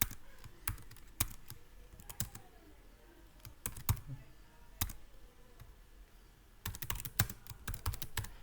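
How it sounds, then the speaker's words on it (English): Typing on a computer keyboard in short irregular bursts of close, crisp key clicks with pauses between, entering a name into a ServiceNow integration form; no talking. "I will type a name here"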